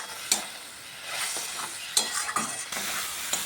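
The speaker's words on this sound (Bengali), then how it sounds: "এবার ভালোভাবে মশলাটাকে কষিয়ে নিচ্ছি।" A spice paste seasoned with salt and sugar sizzles in oil while a spatula scrapes and stirs it in the pan, giving a soft continuous fry broken by sharp metallic knocks and scrapes at irregular intervals, with no voices.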